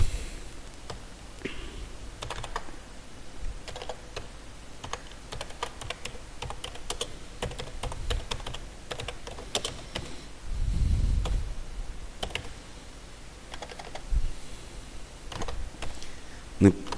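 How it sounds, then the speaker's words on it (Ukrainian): Typing on a computer keyboard to enter text into a Python program's input prompt, irregular close key clicks and taps in quick bursts with brief pauses, faint background talk at times. "І наберемо текст."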